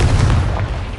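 A Confringo blasting spell in Hogwarts Legacy detonates as a loud, continuous booming burst with heavy low rumble, sustained across the whole moment without talk.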